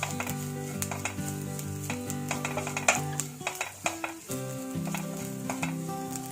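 Green chilies sizzle and fry steadily in a pan for a Kerala-style chicken stir fry, with a spatula clinking and scraping as they are stirred, close and moderately quiet.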